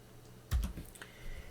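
Short burst of computer keyboard typing as a terminal command is entered: a few quick, soft key clicks close by in an otherwise quiet room.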